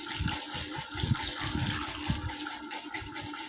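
Thick curd poured by hand over cooked rice on a plate, a wet, gloopy splashing and gushing that pulses in several close, uneven bursts throughout with no talk.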